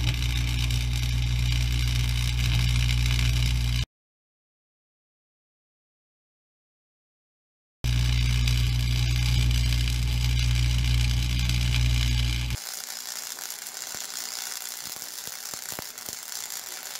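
Flux core welding on 3/16 steel with a cheap Harbor Freight welder set to 9 and max: a loud, steady crackling buzz in two long bursts separated by silence, then a quieter hiss with sharp pops and ticks.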